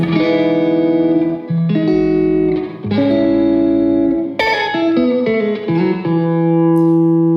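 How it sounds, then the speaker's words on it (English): An electric guitar through a Keeley Realizer Reverberator pedal on its hall reverb setting plays a sustained melody of notes and chords, each ringing out into a wide, smooth hall reverb tail, with no talking. "it's kind of just your nice standard Hall reverb."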